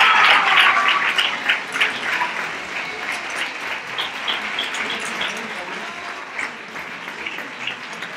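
A crowd claps at the 2023 Reyes coronation ceremony in Nerva, applause swelling loudly at first, then settling into a steady, slightly thinning patter, with voices heard faintly over it.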